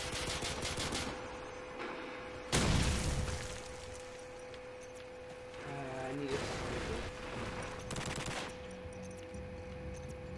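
MP44 fire in Call of Duty 4 comes as scattered sharp bursts, one loud, over a constant game backdrop while a voice talks in the middle.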